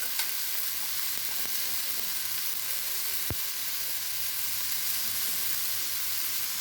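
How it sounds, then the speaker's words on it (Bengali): Okra sautéing in a pan with turmeric and salt gives a steady, even sizzle of frying throughout, with one brief sharp clack midway, close and alone without any talk. "ঢেঁড়সটারে কষিয়ে নিচ্ছি।"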